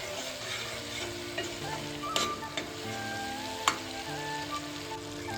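Masala and chopped tomatoes sauté in oil in a pot for tuvar dana muthiya saak, a steady close sizzle with a few sharp clinks of a stirring spoon against the metal.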